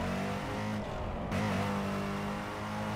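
A sports car engine, the Thunder Custom in Burnout Paradise Remastered, drones and revs continuously at close range, with a brief dip in pitch before climbing again.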